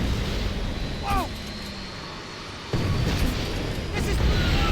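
An airplane engine in the video game Max Payne 3 makes a loud, continuous roar that fills the whole stretch, with a sudden jolt partway through.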